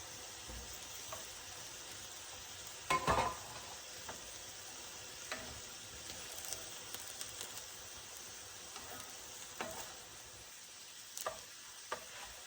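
Garlic cloves hitting a hot pan and sizzling softly while cooking beef strips with asparagus, a steady faint frying hiss with a brief louder crackle early on and scattered small pops throughout, no talking.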